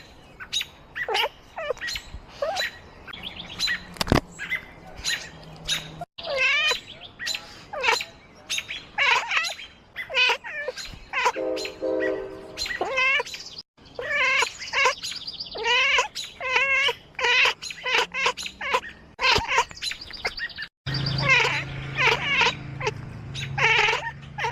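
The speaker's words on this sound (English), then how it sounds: "It's a good cat." A cat meows over and over in high, wavering, chirpy calls, loud and close, with short pauses between bursts and a few drawn-out yowls.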